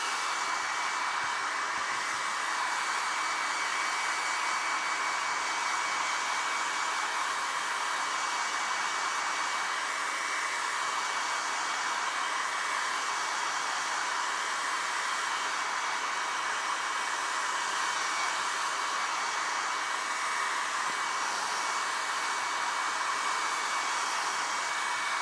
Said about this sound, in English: Excuse the hairdryer for a minute.